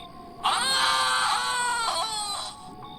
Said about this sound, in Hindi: एक जोरदार भयानक चीख की आवाज आई